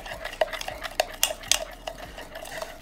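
Spam musubi sauce being stirred in a pan, with rapid, rhythmic metallic scraping and clinks of a utensil against the pan over a faint sizzle, close and clear.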